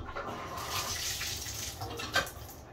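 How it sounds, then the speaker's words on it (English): Cold shower water trickling out at low pressure, a steady close splashing and running stream with small clatters and a brief sharp splash near the end, no voices. "if the water's cold, the pressure isn't very strong, it kind of just trickles out"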